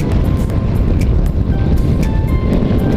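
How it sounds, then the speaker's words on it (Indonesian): Strong wind buffeting a rider on a motorcycle near flooded roadside water in Indonesia, a loud constant roar with rumbling low noise throughout, no talking. "Wow, anginnya gede banget."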